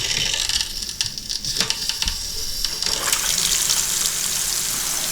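Water runs steadily from a repaired Moen tub and shower faucet, a continuous close hiss and splash of flow filling the bathroom with no talk over it.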